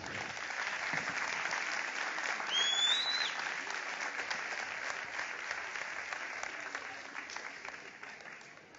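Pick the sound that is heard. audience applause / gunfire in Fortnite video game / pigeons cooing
audience applause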